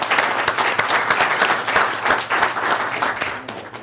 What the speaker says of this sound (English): Let's give them all a large round of applause.